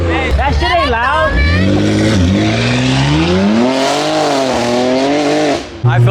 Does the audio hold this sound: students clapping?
no